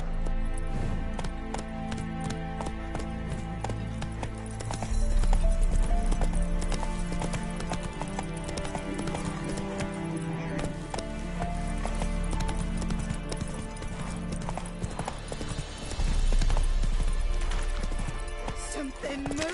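Roach the horse gallops in The Witcher 3, a steady run of loud clip-clopping hoofbeats with a brief whinny, all over continuous game music.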